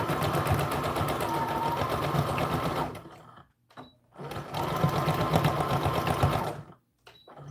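A sewing machine backstitches a doll dress bodice, whirring steadily for a few seconds, pausing briefly, then running forward again in another steady burst, loud and close.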